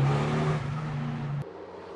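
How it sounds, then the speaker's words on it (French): A tuned Renault Megane 3 RS, stage 2 with 350 hp and its catalytic converter removed, holds a loud, droning rev before the throttle closes, and a brief hiss from the dump valve follows as the engine drops back. "vous avez ce bruit de dump valve super sympa qui respire."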